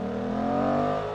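A Suzuki GSX-8S motorcycle engine held at a steady, loud rev with a strong low harmonic drone, close and continuous for about a second with no talk.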